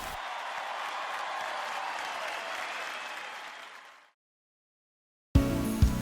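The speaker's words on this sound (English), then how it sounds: "Let's give them a big round of applause" A seated audience applauds graduates of a basic civilian mounted posse training class, a thick, steady wash of clapping that fades out over about four seconds, followed by silence and then a sudden new sound at the end.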